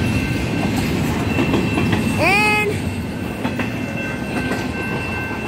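A Union Pacific double-stack freight train rolls past close by, a steady heavy rumble of railcars with rhythmic wheel clatter and a brief horn-like tonal sweep midway, one short spoken word over it.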